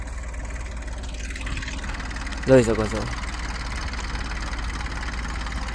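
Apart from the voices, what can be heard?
tractor engine idling on a farm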